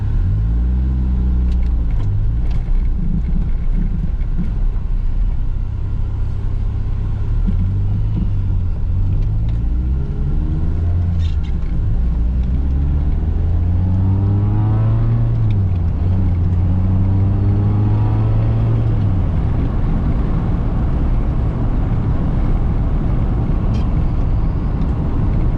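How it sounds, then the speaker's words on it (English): A 1988 Mazda 323 with a manual transmission drives along with a steady, loud engine rumble that climbs and falls through the gears, its drivetrain whine rising and dropping over the run, heard from inside with no talk. "so I can hear the engine and transmission noises a little more"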